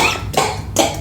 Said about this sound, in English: All hacking and coughing and stuff.